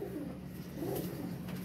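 Sialkoti pigeons coo at close range, their low, rolling calls repeating in soft waves over a light background hiss.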